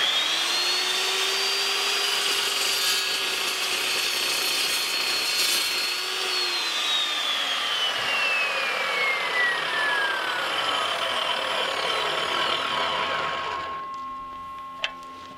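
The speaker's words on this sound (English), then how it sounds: "So it's definitely loud, but you can see the blade runs much slower than an abrasive saw." A new shop saw cuts steadily and loudly for about fourteen seconds, its blade turning slower than an abrasive saw, with a grinding tone whose pitch slowly falls as the cut goes on before the noise stops near the end.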